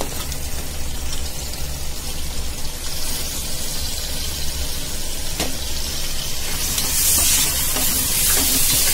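Tomatoes and onions sauté in a pan for vegetable rice, making a continuous soft hiss and sputter that grows slightly louder near the end, with no voices.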